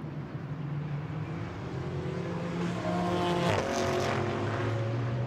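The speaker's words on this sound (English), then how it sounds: "So the Lamborghinis go out of turn five." Lamborghini GT race cars at the Algarve circuit accelerate out of turn five in a British GT race, engines rising in pitch and growing louder as they pass at moderate distance.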